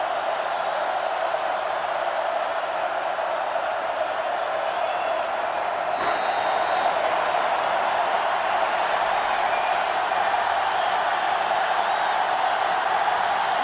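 Stadium crowd noise from the NCAA Football 2005 video game on GameCube, a steady dense roar of fans that holds at an even level throughout with a faint brief cheer near the middle.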